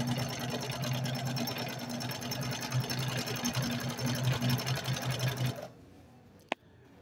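A Singer 2868C sewing machine runs steadily sewing a three-step zigzag stitch, a close, even whirring hum that stops abruptly near the end, followed by a single sharp click.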